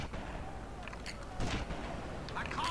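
A bolt-action sniper rifle fires in GTA: Vice City Stories, giving one sharp, loud shot among other game gunfire and noise.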